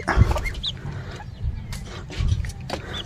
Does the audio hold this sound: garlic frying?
no